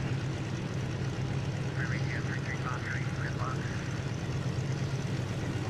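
A Stearman PT-17 biplane at an airshow is heard as a steady, continuous engine drone, moderately distant, with a faint voice briefly over it.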